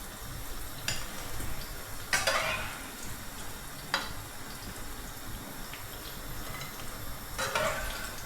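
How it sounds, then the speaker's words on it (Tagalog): Fried chicken sizzles in a pan on a home stove, a steady crackling hiss broken by a few louder bursts of stirring or spattering, close by with no talk. "prito naman tayo ng fried chicken"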